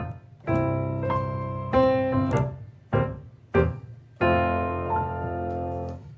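Happy Birthday played on piano and captured as a phone voice memo, its phrases of clear harmonic notes and chords arriving in separate bursts with short gaps between, fairly close and alone with no talking.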